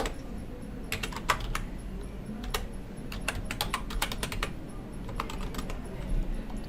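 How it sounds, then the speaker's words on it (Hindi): A password is typed on a computer keyboard at an OpenVPN login, a close run of crisp key clicks in uneven bursts over a low room hiss, with no voice. "पासवर्ड एंटर करते हैं अपने यूज़र नेम का"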